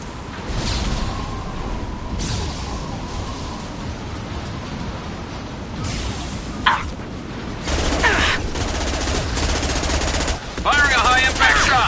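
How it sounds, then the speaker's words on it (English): Rapid gunfire from the video game Mass Effect 2, with bursts and impacts over a dense, noisy combat soundscape that stays loud throughout, plus brief game sound effects. "Firing a high-impact shot!"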